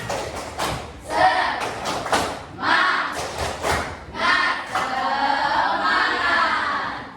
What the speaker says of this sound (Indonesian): Tepuk semangat, lagi kita ulang lagi. Tepuk semangat.